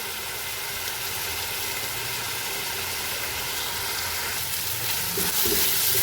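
Onions frying with garlic-ginger paste for chicken curry make a steady, close sizzle with a continuous crackling hiss and a few faint stirring knocks near the end, heard without talk.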